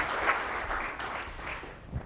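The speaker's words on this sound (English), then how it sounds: "Maybe a round of applause, including the breakfast." Audience applause at a business breakfast meeting, a short burst of steady, moderately loud clapping from a room of people that tapers off toward the end.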